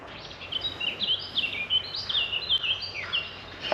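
Birds singing outdoors at a countryside camping spot, a lively mix of high chirps and tweets repeating in quick bursts against a faint background hum.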